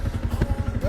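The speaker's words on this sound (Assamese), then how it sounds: "বাইকখন ষ্টাৰ্ট দিছোঁ" A motorbike engine being started up nearby, giving a steady, rhythmic low chugging throb that pulses evenly for the whole moment.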